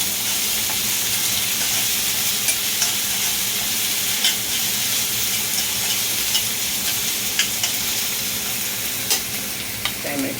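Chopped onion sautéing in a pan for dal khichdi, with asafoetida just added, gives a loud, steady sizzle and hiss throughout, broken by occasional faint clinks and scrapes of a stirring spoon, with no talk.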